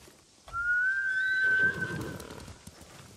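A single horse whinny from the Ghost of Tsushima video game, a rising drawn-out neigh of about a second that fades into softer rustling and snorts, alone with no talk.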